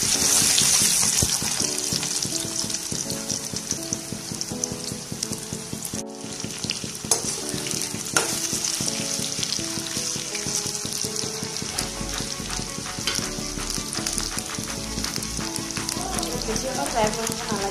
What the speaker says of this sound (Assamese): মই এই আলুখিনি যিখিনি আলু কাটি লৈছিলোঁ এইখিনি আমি ফ্ৰাই কৰি ল'ম